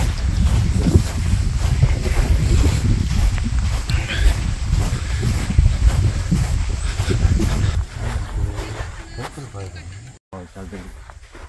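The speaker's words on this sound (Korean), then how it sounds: "와, 바람 좀 부네." Strong wind buffeting a microphone on a golf course in Sangju, South Korea: steady loud rumbling gusts run throughout, with people talking under the noise.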